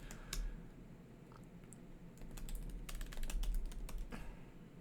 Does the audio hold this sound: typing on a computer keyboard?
yes